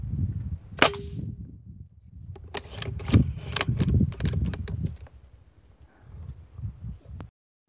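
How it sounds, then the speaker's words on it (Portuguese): Sharp shotgun blasts ring out during a dove and deer hunt by a reservoir, a few loud reports spaced through the clip with rustling and handling noise between. "o último disparo que eu dei aqui"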